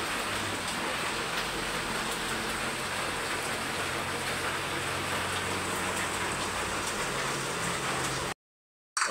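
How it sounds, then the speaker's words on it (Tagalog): Steady rain falling, a dense continuous hiss of drops on surfaces, moderately loud and even throughout, cutting off briefly near the end, no talking. "Ulan."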